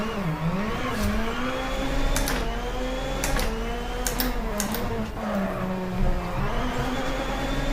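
WRC 9 rally car engine droning steadily throughout, pitch rising and falling with throttle and gear changes, with faint sharp clicks over the top and no talk.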